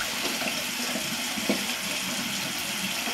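A lavender vegan soap bar is rinsed under running tap water in a sink, giving a steady, full rush of flowing water that continues throughout with no talking.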